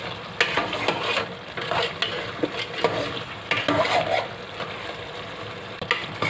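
Charsi karahi cooks on a high flame, with steady frying sizzle and repeated scraping and stirring clatter in a metal wok. Sharp knocks come at irregular intervals, and no voice is heard.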